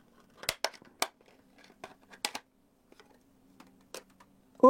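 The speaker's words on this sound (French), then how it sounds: "On va l'ouvrir. Bon, il est juste emboîté, ça fait beaucoup de bruit" A snap-fit Kodak X120 Pro SSD enclosure is pried open by hand, giving sharp plastic cracks and clicks in irregular bursts against a faint hum, close and quiet between snaps.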